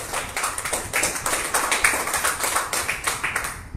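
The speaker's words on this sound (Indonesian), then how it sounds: "Mari kita tepuk tangan." Audience clapping at a Papuan independence (OPM/TNPB) declaration gathering in Papua New Guinea, a steady patter of many hands sustained throughout at moderate level with no talk over it.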